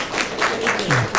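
Scattered clapping from an audience at a city town hall meeting comes in a few quick rhythmic bursts, with a faint voice underneath.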